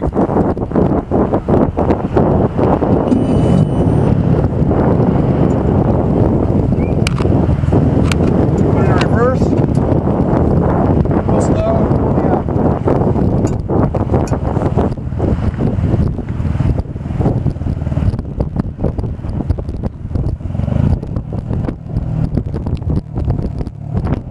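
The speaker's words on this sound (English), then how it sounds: "So I'm going to start the engine, and then I'm going to make sure I drop it all the way before I start moving." A race committee boat's engine starts and runs on open water, a steady rumbling drone buffeted by strong wind noise, with a voice talking over it.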